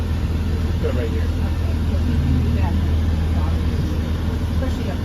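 A Gettysburg tour bus motor runs nearby with a steady low, rumbling drone that stays constant throughout, with faint voices in the background.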